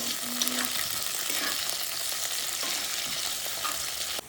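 Fish curry ingredients are stirred and fried in a pan, producing an even, moderately loud sizzle with soft intermittent stirring scrapes that end abruptly.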